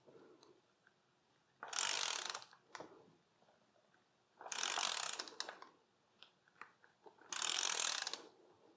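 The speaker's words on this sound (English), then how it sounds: "I got an overkill socket here." A socket ratchet turns a bolt on a Mercedes 560SL during rear main seal work, in three loud, close bursts of rapid ratcheting clicks about a second long, separated by quieter pauses with scattered small knocks.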